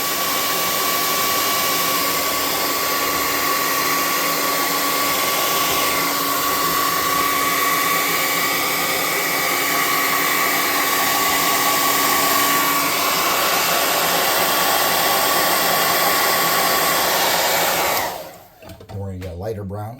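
A hot air gun blows continuously to dry paint, a steady loud whooshing whine with a high tonal hum, then stops abruptly near the end.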